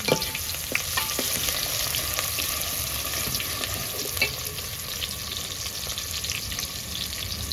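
Onion frying in hot oil while preparing a surmai fish dish, a steady dense sizzle running throughout with occasional stirring scrapes, close and loud, no voices.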